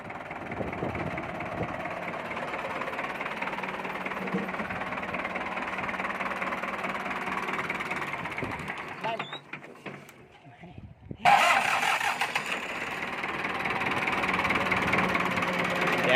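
An engine idles with a steady mechanical chatter, then cuts out into near silence before another running motor fills the background again; voices talk over it.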